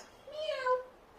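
A person imitates a cat in a children's singing game, giving one short, close, rising-and-falling meow that lasts under a second in a quiet room.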